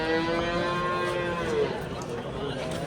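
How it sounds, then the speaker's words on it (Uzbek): A large cow at a livestock market near Angren in Tashkent region gives a long, loud, close moo that lasts most of the moment, with faint crowd murmur behind it. "Sigirni kattasi."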